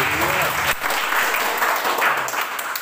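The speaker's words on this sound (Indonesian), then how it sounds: "Kita berikan tepuk tangan yang terbaik bagi Tuhan kita Yesus." Congregation applauding inside a church, a dense, steady wash of clapping that stays loud throughout, with a brief dip near the start and no one talking over it.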